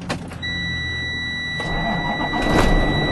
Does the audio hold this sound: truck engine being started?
yes